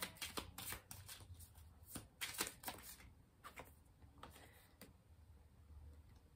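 A deck of tarot cards is shuffled by hand nearby, with rapid papery riffles and flicks in uneven bursts, followed by quieter, scattered card taps.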